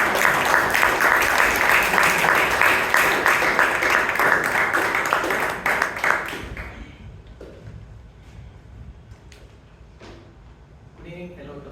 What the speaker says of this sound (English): Toastmaster Balakrishna Rao. Let's have a good round of applause.